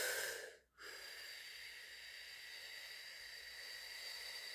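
A singer exhales in a long, soft breathy hiss while keeping the ribs open, with a brief inhale near the start. The breath is close and quiet and sounds alone, with no talk.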